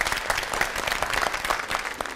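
A studio audience on a televised quiz show applauds, brisk, dense clapping that stays loud and steady for a couple of seconds.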